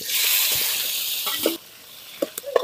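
Chopped onions hit hot oil already tempered with asafoetida, turmeric and curry leaves for an instant lemon pickle, giving a loud hissing sizzle for about a second and a half before it cuts off to a few faint clicks.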